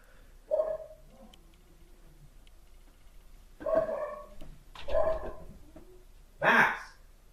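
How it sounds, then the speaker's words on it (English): A pet dog named Max barks downstairs in a house, a few separate barks spread over several seconds, muffled and moderately distant against a quiet room. "my dog is barking downstairs"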